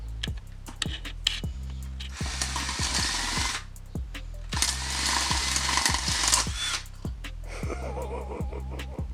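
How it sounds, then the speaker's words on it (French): Power drill boring a hole in a hanging pot, heard in two loud sustained bursts of grinding whir separated by short pauses, with scattered clicks and handling knocks around them. "c'est là qu'il faut percer"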